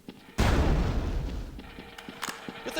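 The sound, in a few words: explosions in the video game Quake II Ground Zero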